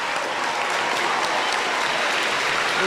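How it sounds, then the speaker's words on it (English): Students and staff at a middle school Veterans Day assembly applaud in a dense, constant roll of clapping, loud and even from start to finish, with no voices over it. "A really nice round of applause for our teacher, Mrs. Kathy Grimm."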